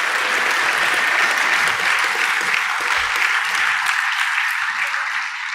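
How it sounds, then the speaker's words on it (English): A full audience keeps applauding for Dennis McKenna after his talk, a thick continuous patter of many hands that stays loud and fades slightly near the end. "Let's have another round of applause for Dennis."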